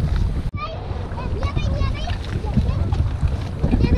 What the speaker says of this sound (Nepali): एकदम दामी हावा चलिरहेछ छालै छाल